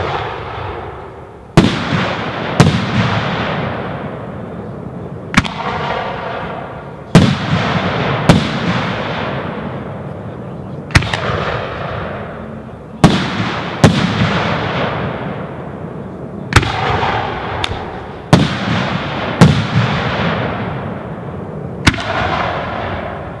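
Twelve or so loud booming bursts from 3-inch Crown Peanuts firework shells, each sharp report followed by a long crackling, rumbling decay, spaced unevenly a second or a few seconds apart outdoors.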